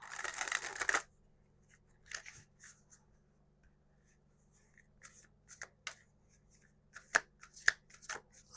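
A deck of Oracle of the Vampire Fae cards is shuffled in a quick, soft riffle, then single cards tap and slide in faint, scattered handling sounds in a quiet room.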